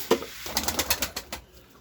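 Soft cooing and squeaky calls from young pigeons, close and brief, with a light rustle in between.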